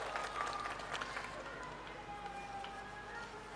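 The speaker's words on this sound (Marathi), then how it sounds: "त्यांच्यासाठी आपण जोरदार टाळ्या वाजवून त्यांचं स्वागत करावं" An audience at a public political event claps to welcome a guest, giving a steady wash of crowd applause throughout with some voices underneath.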